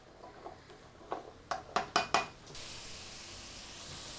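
Vegetables are sautéed in a pan, with a soft sizzle throughout and a run of five sharp, close clinks from a utensil against the pan in the middle.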